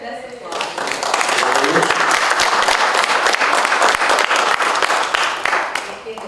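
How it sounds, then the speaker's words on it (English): An audience at a 2015 event on Alabama Blacks in the 1965 Voting Rights campaign breaks into loud, sustained applause for Dr. Robinson, clapping swelling after a brief voice and holding steady for several seconds. "I want to thank also Dr. Robinson. Let's applaud."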